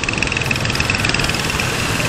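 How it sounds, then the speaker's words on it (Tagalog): A motorcycle engine idles nearby, a steady mechanical drone with a faint rhythmic knock and a thin high whine, with no one speaking. "Ito lang itong motor."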